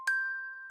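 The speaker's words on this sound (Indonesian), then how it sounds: "bel berbunyi nyaring" A single bright bell ding rings loudly as a sound effect in a horror story, a clear sustained tone fading slowly before a second strike begins at the end.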